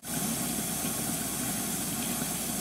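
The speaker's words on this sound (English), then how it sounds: "The water's boiling." Steady, loud rushing hiss with a low rumble, like water at a rolling boil, continuous throughout with no talking.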